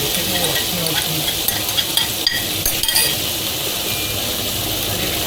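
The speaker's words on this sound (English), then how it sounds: "Stir fry that up." Tofu stir-fried in a hot pan, a constant crackling sizzle broken by scattered utensil clinks and scrapes, close and without talk.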